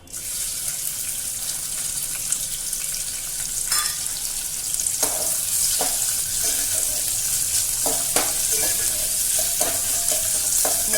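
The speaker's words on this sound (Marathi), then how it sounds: "चांगला फ्राय करून घ्यायचा आहे कांदा" Chopped onion fries in hot oil for a stuffed bitter gourd dish, a steady sizzle broken by repeated sharp scrapes and knocks as the spatula stirs the pan, with no talking.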